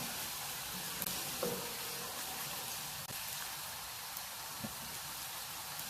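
Ginger and garlic paste, a tablespoon of each, sizzles steadily in hot oil, a faint continuous hiss with a few soft stirring clicks and no talk.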